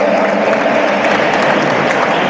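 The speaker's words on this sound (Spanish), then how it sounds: "un aplauso fuerte para María" An audience on stage applauds for María in a loud, continuous burst of many hands clapping, with no pauses, for a couple of seconds.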